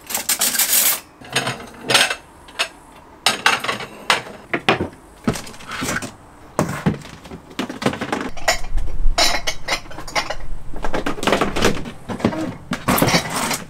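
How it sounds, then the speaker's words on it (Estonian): Dishes and cutlery clink and clatter repeatedly at close range as they are carried in and stacked away in an outdoor kitchen, with irregular bursts of sharp knocks and scrapes. "tõin just meie need nõud ära, mis peaksid kõik siia käima"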